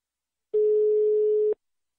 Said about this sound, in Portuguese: Ele tá chamando de novo.